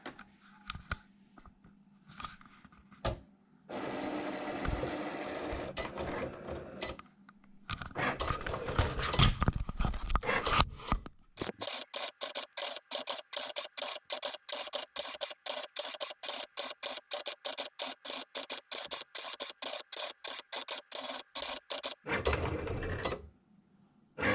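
A Cricut Explore cutting machine working on a card, with a pen loaded for drawing: an early stretch of mechanical whirring and carriage movement, then a long, steady run of rapid rhythmic clicking and buzzing strokes, close and fairly loud, with no talk.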